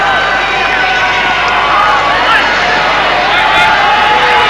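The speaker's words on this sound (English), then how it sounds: "Pakistan crowd very happy about that." A Pakistan crowd cheers at a 1994 World Cup field hockey semi-final against Germany, with a loud, continuous, distant roar filling the stadium.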